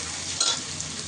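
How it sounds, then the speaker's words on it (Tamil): Onions frying with cinnamon, cloves and cardamom for a mutton kurma sizzle steadily in hot oil, with a brief stir partway through, and no one speaking. "இப்போ வெங்காயம் போட்டு வதக்குறோம்."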